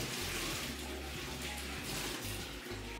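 Water thrown into the tank of a Crompton Optimus 100-litre desert air cooler during cleaning: a continuous rushing splash, close and steady for the whole stretch.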